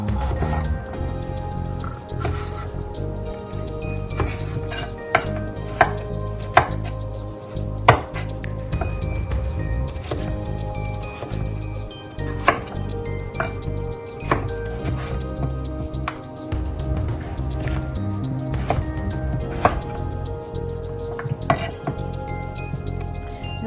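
A knife cuts butternut squash into cubes on a board in a home kitchen, giving repeated sharp close taps and clinks spread across the whole stretch over a steady background.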